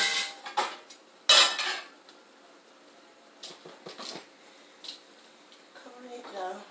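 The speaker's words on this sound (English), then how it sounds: "So I'm stirring everything together." A metal utensil clanks and scrapes against a pot while sweet and sour chicken is stirred. A sharp knock comes early, lighter scrapes follow in uneven bursts, and a voice briefly speaks near the end.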